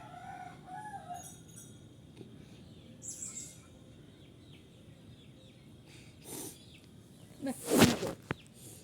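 A chicken clucking and calling in a backyard, with a few short squawks early on and a louder, sharper burst of calls near the end, heard close amid quiet background.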